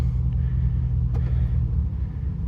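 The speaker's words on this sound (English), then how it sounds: "I can hear and feel the transmission" A 2011 Chevrolet Silverado idling while its transmission is cycled through the gears, a steady low engine rumble close by with a faint brief clunk partway through, no talk.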